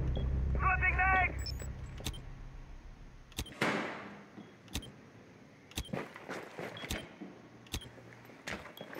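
Magazine reload in a Rainbow Six Siege Tower team deathmatch: close mechanical clicks and a short metallic rattle, then sharp gunshots and clatter at intervals over faint game ambience.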